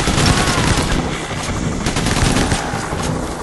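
Rapid, sustained automatic gunfire from enemies in the heist shooter game Payday: The Heist, loud and continuous with dense overlapping bursts and no talk.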